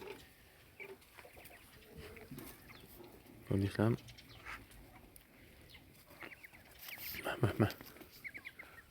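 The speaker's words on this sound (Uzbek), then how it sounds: "eng katta xo'rozimiz." A large white rooster in a farmyard giving a few short, close clucking bursts between quiet stretches, with someone talking nearby.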